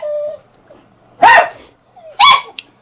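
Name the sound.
dogs barking at the house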